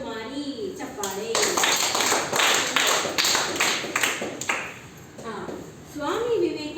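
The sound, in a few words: audience applause at a quiz program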